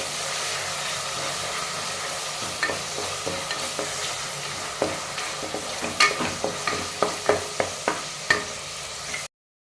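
Green chillies with ginger garlic paste sauté in a pan for coconut milk biryani, a steady sizzle broken by scattered scraping clicks of a spoon stirring against the pan, growing busier toward the end.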